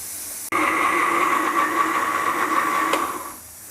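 A mixer grinder whirs steadily for about three seconds as it grinds cream and fried onions into a paste for shahi mutton korma. The motor starts abruptly, runs loud and close, then winds down.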